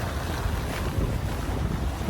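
A sailboat running at about six knots with both sails up and engines off, giving steady wind rush and water noise against the hull, continuous and fairly loud with no voices.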